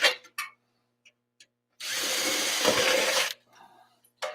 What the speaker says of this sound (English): We'll just drill some holes. Whoa! This drill's got some power.